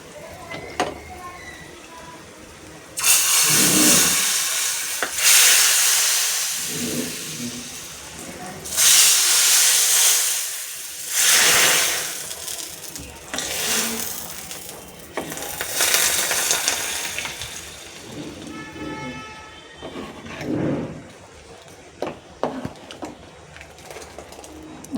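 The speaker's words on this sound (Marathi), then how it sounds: "आता मस्त असा तडका घातला आहे ह्याच्यात." Hot tempering (tadka) is poured into a dish for a home-cooked Ashadi Ekadashi fast-breaking meal, and it bursts into loud hissing sizzles that surge and fade several times, with some talking in between.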